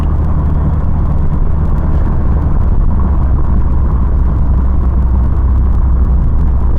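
A custom 1973 Ford Pinto drives and accelerates, its engine a loud, close, continuous low rumble with a steady drone from inside the car.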